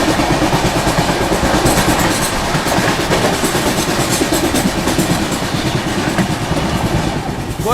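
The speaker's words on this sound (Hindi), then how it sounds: "सामने से आ रही है गोरखपुर एलटीटी सुपरफास्ट" The Gorakhpur LTT Superfast Express passes close by in a loud, continuous rumble with rhythmic clickety-clack of wheels over rail joints, steady throughout.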